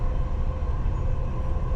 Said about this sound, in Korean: 그리고 지하철 속도가 굉장히 빨라요.